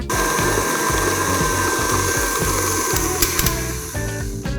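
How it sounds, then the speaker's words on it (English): An electric mixer beating gluten-free, dairy-free lemon blueberry cupcake batter, a loud, steady motor whir with a churning, slightly uneven rhythm from the beaters, close and continuous with no talk. "And now I'm just gonna give it a good mix."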